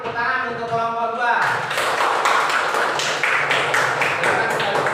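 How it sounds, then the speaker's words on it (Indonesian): Clapping for a student group in a training session begins after a voice finishes speaking, then settles into a dense, steady patter of hands nearby that continues to the end. "Tepuk tangan untuk kelompok 2."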